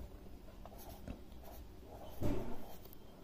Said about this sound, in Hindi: जैसे हम यदि लिखते हैं यहाँ पर